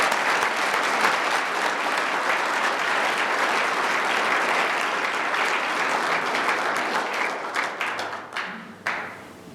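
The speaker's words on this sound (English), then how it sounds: "I think we deserve to give a round of applause to Judy and the Board of" A dinner audience at a chamber of commerce awards night gives a round of applause, loud and dense at first, then thinning into scattered claps that fade out near the end.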